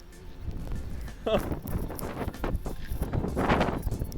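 Wind gusts roar and buffet the microphone outdoors on a rainy, windy day, a steady rough rumble that swells and dips throughout.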